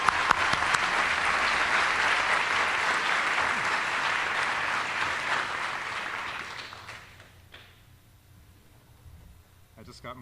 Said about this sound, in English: let's give a warm round of applause for George John